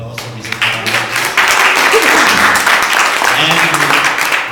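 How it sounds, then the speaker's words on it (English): Conference audience applauding a speaker after a business presentation on outsourcing, a dense burst of clapping that swells in and holds steady, preceded by someone speaking into a microphone. "Round of applause for Mr. Kalam."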